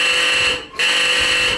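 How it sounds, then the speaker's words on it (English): Homemade coat-hanger alarm on a tugboat winch drum, a loud harsh continuous buzzing ring that cuts off briefly and then resumes, heard alone at close range. "one of the crew members made this little alarm. It's basically a coat hanger device"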